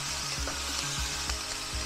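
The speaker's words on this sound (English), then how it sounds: "Onions are cooking down." Onions frying in a pan, a close, steady sizzle with a few soft scraping stir strokes breaking through.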